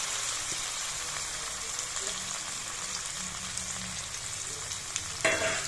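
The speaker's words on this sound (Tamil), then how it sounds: "இப்ப வந்து இந்த உரிச்சு வச்சிருந்த கருணாக்கிழங்க இதுல போட்டு விடுறேன்." Peeled elephant foot yam pieces sizzling in oil in a pan, a soft steady frying hiss with faint stirring clatter and a brief louder scrape near the end, fairly quiet and without talk.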